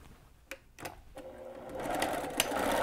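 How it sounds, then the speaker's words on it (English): A sewing machine starts with a few clicks, then runs in a steady whirring stitch that grows louder, close by, sewing the long sides of fabric for a needle book. "You're gonna stitch just along the long sides only."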